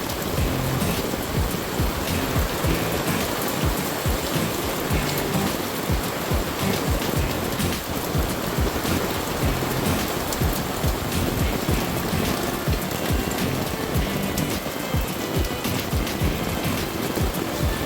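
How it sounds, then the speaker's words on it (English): Heavy rain and gusting wind in a snowy, cold setting, a dense, loud, unbroken roar lasting the whole stretch with no voices. "just a lot of wind and rain."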